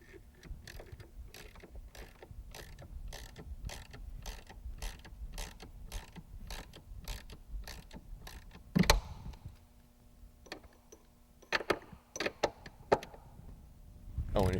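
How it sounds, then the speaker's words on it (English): A ratchet clicks rapidly and rhythmically while tightening bolts during a strut install on a 1998–2004 Cadillac STS, a fast even train of sharp clicks followed by a few louder clanks and scattered knocks. "if you notice, I got my ratchet"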